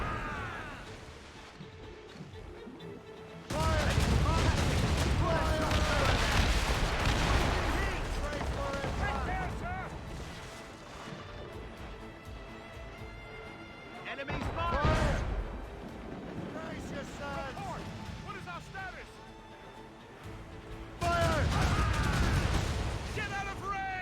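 Ship cannons firing in Assassin's Creed Rogue, heavy booming blasts arriving in a few loud surges under almost constant overlapping voices and game chatter.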